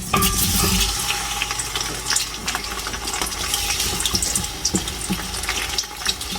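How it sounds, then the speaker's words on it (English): Onions sizzle and fry in a big pan for Ghana jollof rice, a steady loud crackle with stirring scrapes and watery hiss running throughout, no voices. "We are going to let the onion fry for a while."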